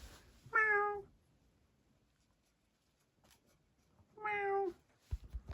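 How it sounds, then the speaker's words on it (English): A cat gives two clear, close meows about three seconds apart, each one short and bright, with a quiet room between them and a few soft taps near the end. "Meow."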